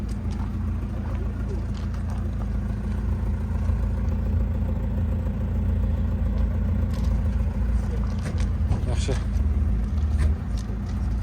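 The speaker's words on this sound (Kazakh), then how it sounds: "Машина жүріп тұрады." A used car engine runs at a steady idle in a sales lot, a constant low rumble through the whole stretch while people talk nearby.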